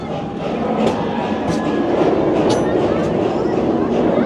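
Busch Gardens Tampa's Serengeti train rolls along on its track through the park's animal plains, giving a steady, continuous rumble with faint rail clatter, fairly loud and close throughout.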